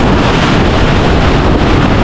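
Strong typhoon wind during Typhoon Uwan roars steadily and loudly across the whole stretch, a dense broadband rush buffeting the microphone with no pauses or voices.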